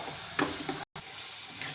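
Spiced paste with chili powder sautéed and stirred in a pan for a Saoji-style vegetable dish: a close hissing sizzle broken by quick spoon scrapes and a momentary gap of silence.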